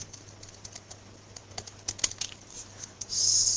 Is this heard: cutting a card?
yes